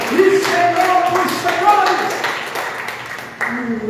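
A church congregation applauds the King of Kings, with steady clapping and a crowd backdrop mixed under ringing tones and voices across several seconds.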